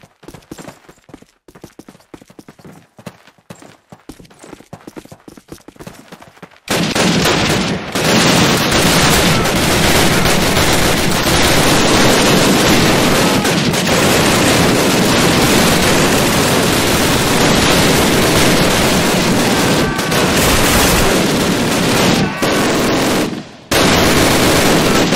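Sustained automatic gunfire in a Call of Duty video game, loud, dense rapid bursts erupting after a quieter opening and continuing almost without pause, with a brief drop near the end.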